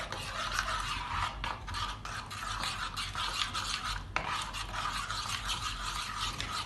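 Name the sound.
eggs being mixed in a bowl for an oats omelette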